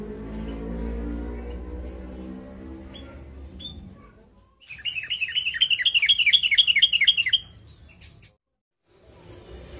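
A glass hummingbird, a small sunbird, chirps while perched on a person's hand during taming: a rapid, bright series of high twittering notes lasting a few seconds, close and clear, between quieter stretches of background noise.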